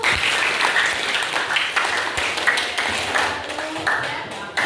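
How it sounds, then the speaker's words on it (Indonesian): A high school class claps hands together in a classroom, a busy, uneven applause with individual claps audible. "Sudah, tepuk tangan dulu."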